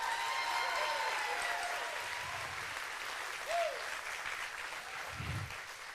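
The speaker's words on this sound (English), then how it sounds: "Give Grace an applause." A spring steel band concert audience applauds a drummer's solo, even clapping for about six seconds with a short whistle and a couple of low thumps mixed in, moderately distant.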